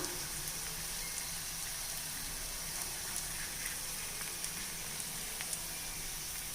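Raw banana slices frying in oil over a medium flame, giving a steady, even sizzle and hiss throughout with faint crackles and no voices.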